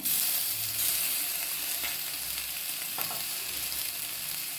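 Okra with chopped tomato and turmeric frying in a pan for an okra saaru: a continuous, even sizzle and hiss up close, with faint stirring touches and no talking.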